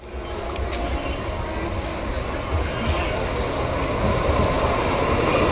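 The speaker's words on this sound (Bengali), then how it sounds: "বিরাটি থেকে আমাদের ট্রেন যাত্রা শুরু করে দিল" A suburban train pulls out of Birati station, a loud steady rumble and rattle of wagons building over several seconds, with a faint high whine above.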